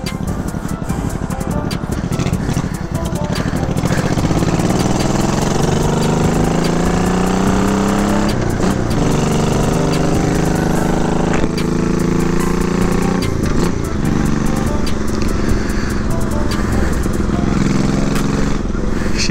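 A 1987 Honda Shadow VT700 motorcycle engine with its carburetors just refilled, idling loudly and continuously up close, its low throb rising and falling in pitch with occasional small pops.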